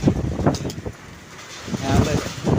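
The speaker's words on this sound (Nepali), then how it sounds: "ल हावाहुरी आयो।" A strong windstorm with rain sweeping through Chitwan at dusk, gusts roaring and buffeting the microphone in heavy low bursts that ease briefly in the middle before surging again.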